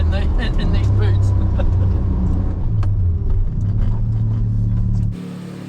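Suzuki Cappuccino driving with a worn rear wheel bearing, heard from inside the car as a steady low droning hum under road noise and the engine, dropping away abruptly at the end.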